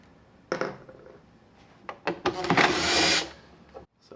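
Long 1/4-inch socket tool unscrews screws from a Liftmaster 3240 screw drive garage door opener, giving a few short, close whirring bursts and clicks, the last burst longer and louder, in an otherwise quiet room.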